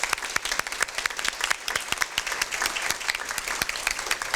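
An audience at a Kiwanis awards ceremony for student achievers claps steadily for several seconds, dense even applause from a roomful of people, with no talking over it.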